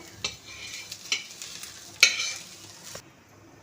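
Onion and garlic frying in oil in a pan for a chicken thali, with quiet sizzling under sharp intermittent stirring scrapes and clicks, close up and no talking.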